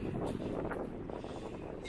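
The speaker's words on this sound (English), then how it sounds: "So I apologize if there's any wind." Wind buffets a microphone outdoors beside a 2020 Forest River Sabre 37FBT fifth-wheel camper, a low rumbling gust that holds steady for about two seconds.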